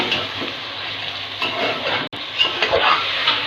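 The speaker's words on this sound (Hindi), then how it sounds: "ये देखें मैं फ्राई कर रही हूँ इसे" Chicken fries in masala in a pan, a steady close sizzle with a few stirring scrapes and a brief break partway through.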